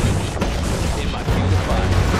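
Artillery ordnance explodes in the PC strategy game Command & Conquer Generals, set in Baghdad, as a loud, continuous roar of overlapping blasts and deep rumbling impacts.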